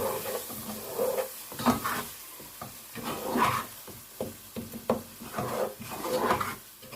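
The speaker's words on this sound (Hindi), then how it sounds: "इन तमाम मसालों को अच्छे से फ्राई कर लेंगे।" Spices frying in a pan while being stirred, a low sizzle under repeated scraping and knocking of a spoon on the cookware, close and moderately loud, no voices.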